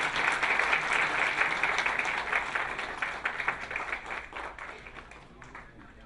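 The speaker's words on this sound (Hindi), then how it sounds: "एक बार ताली बजा करके स्वागत करें।" An audience at a heart-disease training event applauds to welcome a speaker, with steady, dense clapping that slowly fades toward the end.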